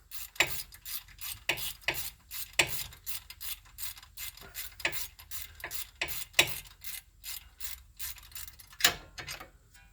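A 1/2-inch ratchet works on the ball joint of a 2017 Jeep Wrangler in quick, repeated clicking strokes, close and fairly quiet, with short pauses between bursts.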